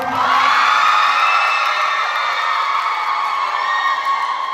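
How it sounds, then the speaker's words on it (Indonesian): Students at the closing of an English drama competition cheer and yell loudly and continuously for the Pharmacy Department, a dense high-pitched crowd roar that stays strong from start to finish with no talking. "Yang kedua tepuk tangan buat Pharmacy Department."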